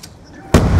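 A grenade going off in Black Ops 2, a sudden loud explosive burst arriving halfway through after a quiet moment, close and sharp.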